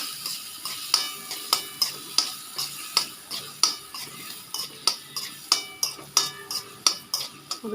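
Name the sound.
stirring and mixing food in a frying pan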